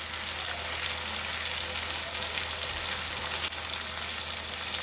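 Green peas frying with spices in a wok give off a constant, dense hiss, loud and close, steady for the whole stretch without stirring or voices.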